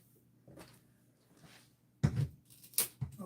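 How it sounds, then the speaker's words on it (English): A hammer pries trim off a wall, giving a few sharp cracks and knocks after a quiet stretch, close and fairly soft. "let's start with the hammer"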